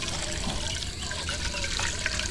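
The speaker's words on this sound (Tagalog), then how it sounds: "Bigyan natin yung tubig." Water is poured out for chickens to drink, a close, continuous splashing and trickling stream over a low background, with a voice faintly present beneath it.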